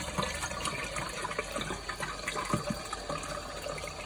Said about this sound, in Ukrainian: набираю води